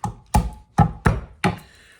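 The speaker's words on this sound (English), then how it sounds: "That's all we're chopping in this recipe for garlic." A knife strikes a cutting board five times while chopping garlic cloves, crisp close thuds in an uneven rhythm with short pauses between cuts.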